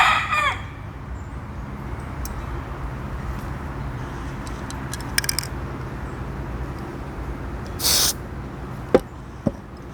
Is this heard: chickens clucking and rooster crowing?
yes